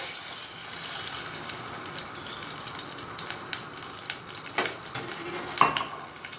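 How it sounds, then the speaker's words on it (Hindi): Milk goes into hot ghee in a pan, giving a soft, steady sizzle and bubbling with light stirring scrapes and a few sharper crackles toward the end, all fairly quiet and close. "थोड़ा सा घी को गर्म होने दें, उसके बाद आपने इसमें दूध डाल देना है।"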